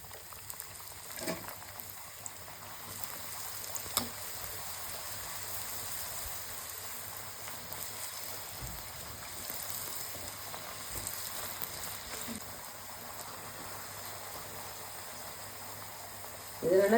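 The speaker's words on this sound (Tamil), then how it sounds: "இப்போ நம்ம எப்படி பூரி பொரிக்கிறதுன்னு பார்க்கலாம் வாங்க" Potato puri frying in hot oil, a soft, steady sizzle with faint crackles running continuously at low volume throughout.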